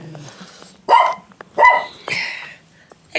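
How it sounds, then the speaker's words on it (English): A small Pomeranian yapping outdoors: a few sharp, high barks in quick succession, close and loud, with a brief pause between each. "the small yappy pom"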